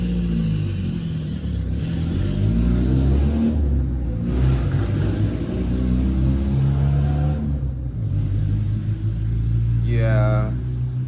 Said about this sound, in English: That's my neighbor's car.